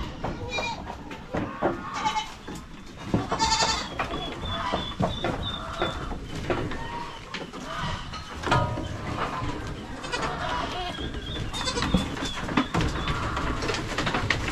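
Goats, including young kids, on a farm, bleating repeatedly near and far, with chicken-like clucking and a person talking over the animals throughout.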